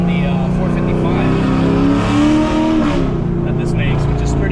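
Modified exhaust on a Camaro SS V8 rumbles loudly and steadily close by, rising briefly in a rev around the middle, with people talking over it.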